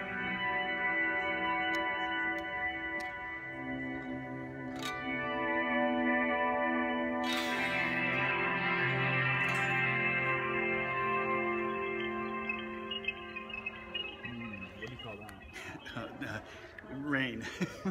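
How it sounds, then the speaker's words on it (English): Sustained guitar chords swell and ring out through a Lexicon MPX G2 effects unit, washed in reverb, delay and shimmering chorus, blending into a long ambient wash that fades near the end. "It's got reverb, delay, chorus on."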